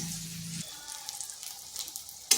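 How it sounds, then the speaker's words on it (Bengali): Eggplant slices fry in hot oil with a soft, steady sizzle, faint and close, with a low hum fading early and a sharp clatter at the very end. "এদিকে বেগুনগুলো ভাজা হোক"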